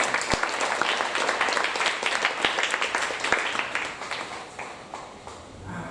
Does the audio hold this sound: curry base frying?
no